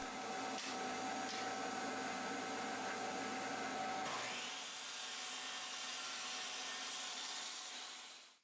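A table saw rips wood to square up a 1.5 inch mallet handle, a loud steady whine and cutting roar close by that shifts as the blade finishes the pass, then winds down at the end.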